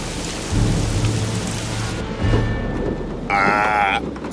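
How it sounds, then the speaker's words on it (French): A fairy-tale sound effect of a thunderstorm: steady heavy rain with deep rolling thunder rumbles throughout, loud and enveloping, with a voice briefly heard over the storm near the end. "La tempête déferla"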